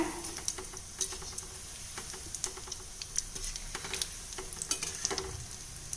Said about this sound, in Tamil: கொஞ்சம் மிதங்கி வந்ததுக்கப்புறம் கொஞ்சம் நல்லா பிரட்டி விட்டுக்குங்க